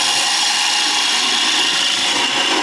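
A woodturning gouge cuts into spinning wood on a lathe, with the bevel riding the surface, making a steady, loud, continuous hissing scrape that holds unbroken and close throughout.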